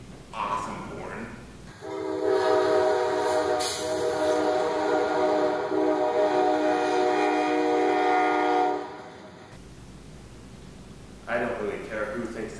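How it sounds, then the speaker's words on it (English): Horn of an Amtrak P-42DC locomotive, one long loud sustained chord blast of about seven seconds, with someone talking before and after it. "the locomotive they use, the P-42DC. First of all, it has a really awesome horn."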